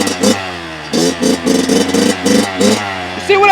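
Kawasaki KX112 dirt bike engine revving hard during a wheelie, a loud, close, buzzy two-stroke note pulsing through repeated throttle blips, rising again at the end.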